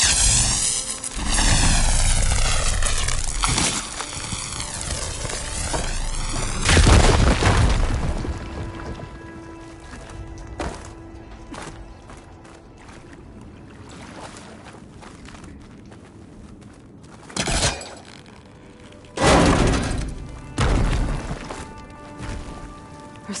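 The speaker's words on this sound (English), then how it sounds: "Should be able to blow up that fire gleam." A fire gleam crystal is blown apart in Horizon Forbidden West, giving a loud, deep explosive boom with a rumbling tail, followed by quieter cave ambience, a faint tonal hum and a few later sharp thuds and bursts.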